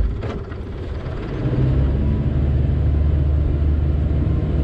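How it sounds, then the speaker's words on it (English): A sailing yacht's port engine running in reverse during skipper training in Thailand gives a steady, loud, low droning rumble. The drone deepens and thickens after a brief dip, with no voices. "And reverse with the port engine."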